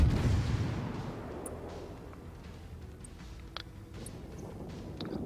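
Cruiser guns in World of Warships fire on the St. Louis, an opening boom fading into distant rumble, with scattered faint sharp reports and clicks over a low ambient wash.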